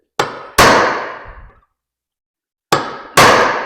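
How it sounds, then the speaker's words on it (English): A metal punch hammered against a socket to knock parts out of a 1940s Pontiac Silverstreak, two loud close pairs of sharp clanging strikes separated by a pause, each with a short ringing decay. "I'm gonna take my punch. And then I just bash these out of here."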